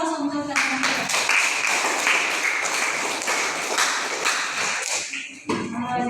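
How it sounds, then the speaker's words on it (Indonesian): Students in a class clap together in a loud, dense burst of applause lasting several seconds, then taper off as a voice speaks. "Beri aplaus untuk teman-teman."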